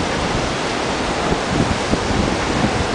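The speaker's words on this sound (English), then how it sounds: "we're about halfway down the beach, Kata Beach" Waves washing onto Kata Beach in Phuket, a steady broadband roar of surf with soft swells rising and falling, fairly close and loud with no voices.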